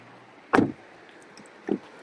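Door of a 2024 Skoda Kamiq Style subcompact SUV being opened, a sharp close latch clunk followed about a second later by a softer second thud, with no talk.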